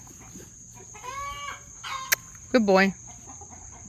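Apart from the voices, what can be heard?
young roosters clucking, herded by Cane Corso dog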